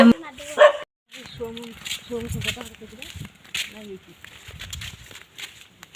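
A dog barks several times amid people talking, the barks mixed into ongoing conversation at moderate loudness.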